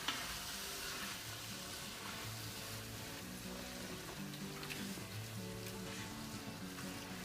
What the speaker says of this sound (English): you can already hear the sauce kind of boiling in there